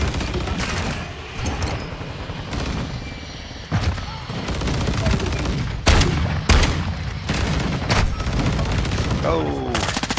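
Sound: shotgun gunfire in the video game Call of Duty MWII

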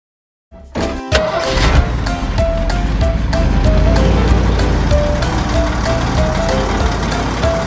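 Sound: ice cream truck jingle

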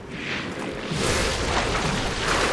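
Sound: enemy exploding in video game Lies of P

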